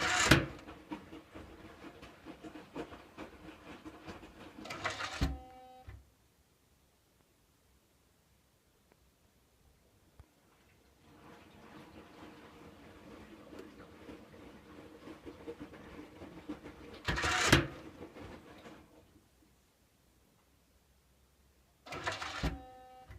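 Domestic washing machine running a fast wash 60 cycle, with loud mechanical whirring and rattling bursts of drum activity broken by quiet pauses and a softer humming stretch, near and without talk.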